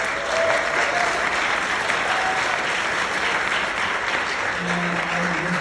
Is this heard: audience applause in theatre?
yes